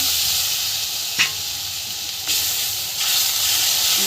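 Spices sizzle loudly in a pan for rui fish curry as water is added: a steady hiss with brief bursts of stronger spitting, close up and without talk.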